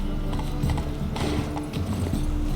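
A horse named Roach galloping in The Witcher 3, hooves pounding in a quick, rapid rhythm over game background music, loud and continuous.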